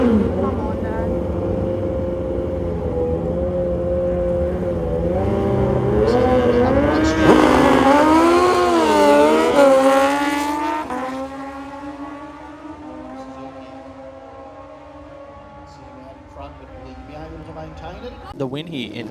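Drag racing Kawasaki and Suzuki motorcycles at Willowbank Raceway, their engines rising in a loud, sweeping howl that peaks and then fades into the distance, with an announcer talking over the noise.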